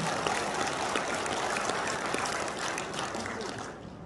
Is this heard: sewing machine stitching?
no